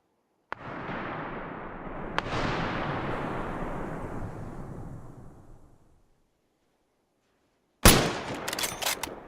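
A single sharp rifle shot cracks out in a video game battle, followed by a long, rolling echo that fades to silence, then a burst of more shots and clatter near the end.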